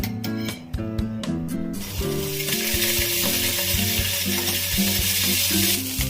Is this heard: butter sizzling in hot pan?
yes